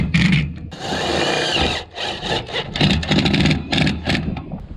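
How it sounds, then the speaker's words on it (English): A power tool drives screws into a car roof in a string of short, loud, close bursts separated by brief pauses. "Then I'm going to screw these to the side of the roof."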